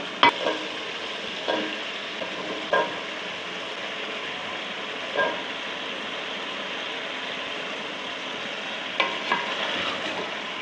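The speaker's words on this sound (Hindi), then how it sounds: "आलूओं को तकरीबन 5 मिनट भूनूंगी मैं।" Potatoes fry with chicken and masala in a pan, giving a steady, even sizzle with a few scattered scrapes and taps of a stirring spoon and no speech.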